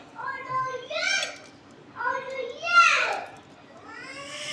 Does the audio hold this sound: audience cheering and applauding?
no